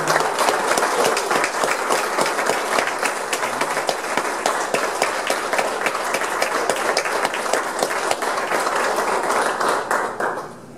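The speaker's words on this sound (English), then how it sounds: "Can we stand and give him a round of applause?" An audience gives a standing round of applause to an honoured person, dense continuous clapping that stays strong throughout and fades slightly at the end.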